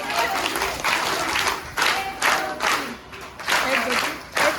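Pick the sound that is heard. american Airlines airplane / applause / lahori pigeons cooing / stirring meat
applause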